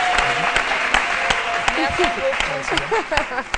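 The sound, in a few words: studio audience applause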